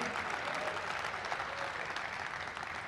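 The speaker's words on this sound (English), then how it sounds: "it's a round of applause, right?" An audience at a mayor's state of the city address applauds steadily, a soft, even wash of many hands clapping at a distance that holds for the whole stretch.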